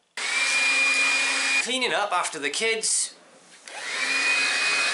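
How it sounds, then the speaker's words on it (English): A Makita LXT DCL180Z cordless vacuum cleaner runs loud and close with a steady high motor whine. It cuts out briefly while a person speaks, then drops to a quiet lull before the motor starts up again at full strength. "I find this vacuum excellent for all sorts of jobs around the house."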